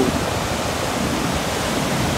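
Fourteen Falls, a waterfall in Kenya, roaring loud and constant at close range, a thick unbroken wash of falling water with no voices over it.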